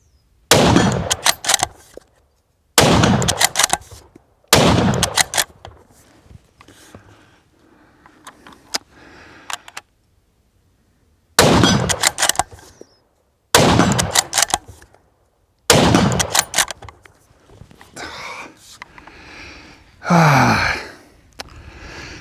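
Sako 90 Peak .308 rifle firing Sako 130 grain ammunition outdoors: six loud, sharp shots spaced a few seconds apart, each followed by a brief decaying echo and rustling handling noise.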